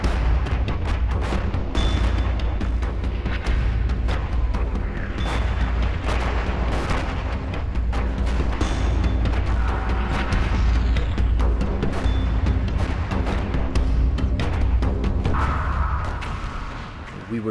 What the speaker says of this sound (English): The shells were bursting everywhere, some of them very low.